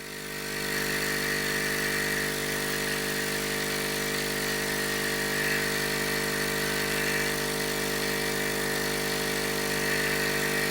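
A Hailea ACO 318 45-watt laser air assist pump runs steadily with a constant hum and buzzing drone, holding an even level throughout with no voices.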